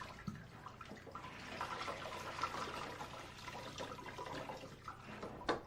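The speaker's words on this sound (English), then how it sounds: "Then slosh it around in the clean rinse. Wring it out again and continue mopping." String mop sloshed through a bucket of clean rinse water and wrung out, a steady wet swishing with splashy bursts and trickling drips, close and moderately loud with no talking.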